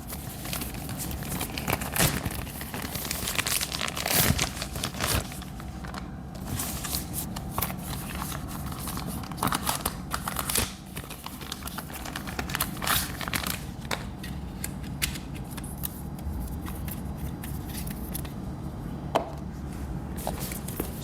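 Cardboard and plastic packaging of a DJI Osmo Pocket 3 Creators Combo box being opened and handled, with close, steady crinkling, rustling and soft crunching across the whole stretch and no talking.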